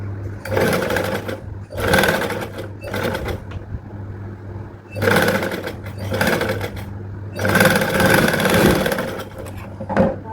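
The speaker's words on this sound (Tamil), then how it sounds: "இப்படியே வச்சு ஓரத்தில் ஸ்டிச் பண்ண போகிறோம்" A sewing machine stitches along the narrow edge of a blouse sleeve. It whirs loudly and close in several bursts of a second or two, with short pauses between them and a steady low hum running underneath.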